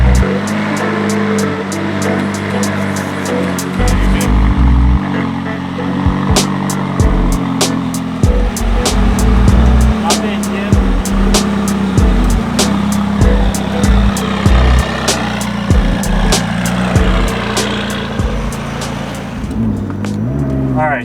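A McLaren 570S supercar fitted with a new exhaust drives on the road, its engine a steady, close droning hum with repeated sharp ticks and clicks, and occasional voices inside the cabin.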